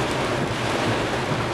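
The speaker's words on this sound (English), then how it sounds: "It's raining like hell." Heavy rain on a vehicle stopped on the I-35 highway south of Waco, Texas, a dense steady roar of drumming water with a low rumble underneath, constant and close, with no talk.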